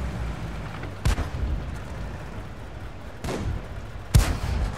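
Tank gun shots in World of Tanks: two heavy booming blasts about three seconds apart, each a sharp crack with low rumbling decay, over steady engine-like background noise.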